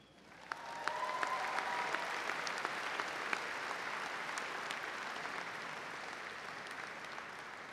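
Audience applause at the Wentworth summer commencement ceremony, 2015, a large crowd clapping steadily and fairly loudly in a hall, sustained for several seconds with no speech.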